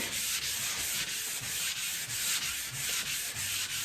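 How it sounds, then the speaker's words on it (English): A 6-inch semi-rigid sanding block is worked over the body panel of a '55 Chevy, a close, steady abrasive scrubbing with a regular back-and-forth rhythm. "But areas like this, you can get away with a little 6-inch semi-rigid block"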